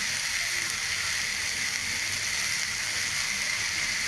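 Papaya leaves dropped into a hot frying pan give a soft, even sizzle. The constant hiss is fairly faint and holds steady with no talking over it.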